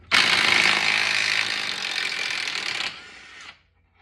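An impact wrench on a 21 mm primary clutch bolt of a Polaris 1000 diesel rattles loudly and continuously for about three seconds, then its pitch and level drop as it spins down and stops.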